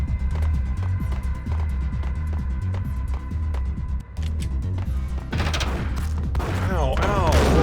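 Gunfire in the Max Payne video game, a rapid run of close shots with clattering mechanical impacts, then a louder crashing burst near the end.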